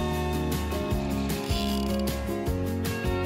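A fishing reel ratchets while a hooked fish is reeled in on a carp-fishing swim, giving close, loud, continuous mechanical clicking and whirring in repeating surges, with no talking.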